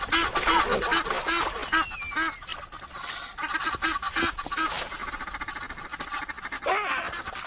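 A pair of Egyptian geese with newly hatched goslings in the Namib Desert gives repeated harsh honking calls in quick bursts, loud and close, over a busy background of other bird noise.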